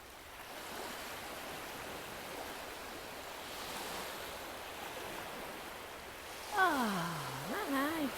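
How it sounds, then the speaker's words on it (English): Calm sea water lapping gently on a beach, a soft steady wash of small waves, fairly faint and even, with a brief voice-like sound near the end. "Just hear that water gently lapping"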